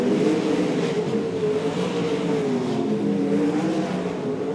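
Sprint cars race around Archerfield Speedway, their engines droning loudly as they accelerate in a dense, continuous roar heard from a distance.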